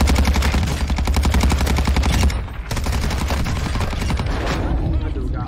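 Rapid, dense pistol gunfire from akimbo Snakeshot pistols in Warzone 2 rattles almost without pause, with a brief dip midway, while a player's voice comes through now and then.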